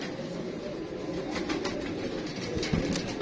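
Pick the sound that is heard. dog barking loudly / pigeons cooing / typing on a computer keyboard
pigeons cooing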